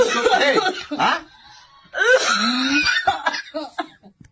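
Several harsh, throaty coughs come in two bursts separated by a short pause, close and fairly loud, mixed with strained vocal sounds.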